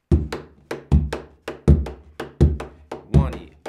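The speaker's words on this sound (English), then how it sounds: "play all the syncopated notes constantly in your left hand or your non-dominant hand" Partido alto pattern tapped by hand, with one hand on the downbeats and the other on the syncopated notes, giving a steady, close, looping rhythm of low thuds and sharp taps with no talking.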